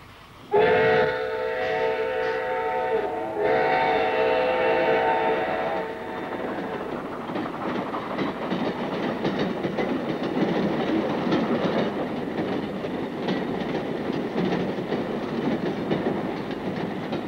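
A train whistle sounds loudly at the start, then gives way to the steady rumble and clatter of a train rolling along the rails.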